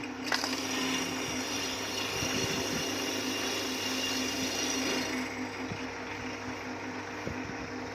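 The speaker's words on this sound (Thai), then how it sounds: "เจาะเลยครับผม" A power drill boring through an aluminium rear footrest whines steadily with a high mechanical tone, joined by scattered knocks and clicks, continuous and fairly close.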